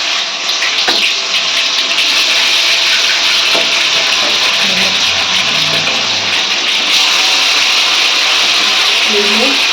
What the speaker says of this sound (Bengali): ম্যারিনেট করা চিকেনটি মাসি এবারে ভেজে নিচ্ছে।